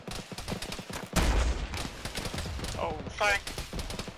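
Gunfire in the ShackTac military video game, sharp shots with a loud burst near the middle and more reports scattered through, heard under voice chat with players talking.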